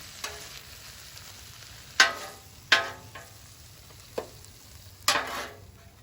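Cheesesteak meat and melted cheese being stirred and scraped on a griddle: a low steady sizzle punctuated by several distinct metal spatula scrapes and clacks, spaced irregularly over several seconds.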